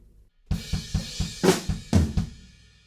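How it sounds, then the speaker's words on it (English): A short drum fill: a flammed hit and kick followed by quick tom strikes and more kick thumps, a brisk sequence of about eight hits, close and punchy. "It's just flam kick, toms kick."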